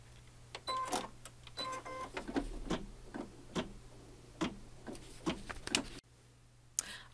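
An embroidery machine stitches a basting line around an in-the-hoop Valentine placemat, giving quiet, quick mechanical ticks and clicks in uneven bursts over a steady low hum, with a short pause near the end.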